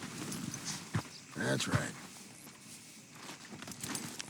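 In the Western game Red Dead Redemption 2, a horse walks with soft, uneven clip-clop hoofbeats and rustling at moderate distance, while someone speaks briefly over them.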